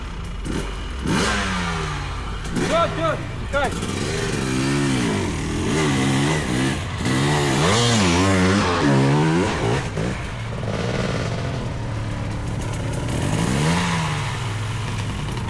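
A motorcycle climbs a very steep, near-vertical hill, its engine revving hard in repeated rising and falling surges as the throttle is opened, eased off and opened again, loud and close with no talk.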